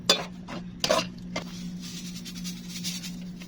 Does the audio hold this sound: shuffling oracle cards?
no